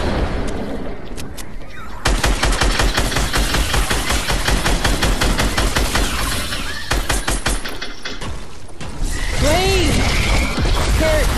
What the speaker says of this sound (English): I'm wasting all my rockets on some goo zombies.